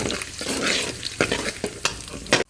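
Mustard seeds, urad dal and chana dal fry in hot oil, giving a loud, continuous crackling sizzle with a few sharper spatula scrapes and pops toward the end.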